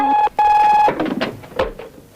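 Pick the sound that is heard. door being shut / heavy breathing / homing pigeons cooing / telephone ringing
telephone ringing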